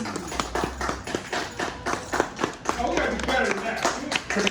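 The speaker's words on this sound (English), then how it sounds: "Clap." An audience at a talk claps in scattered, uneven bursts, close and moderately loud, while someone speaks over the applause.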